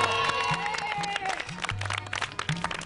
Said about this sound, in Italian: Un applauso per Saro!